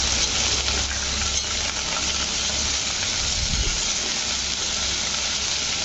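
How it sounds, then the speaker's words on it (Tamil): Coriander and mint leaves fry in a pan with onion and tomato over a low flame, giving a steady, close sizzle and hiss that stays even throughout, with a faint clink partway through and no talking. "கொத்தமல்லியும் புதினாவும் நல்லா வறுபட்டுருச்சு."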